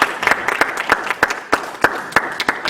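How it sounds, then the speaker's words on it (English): Sparse applause from a debate audience, with distinct individual claps landing in a loose, uneven rhythm against a light wash of further clapping, fairly close and clear. "go ahead and give them a round of applause"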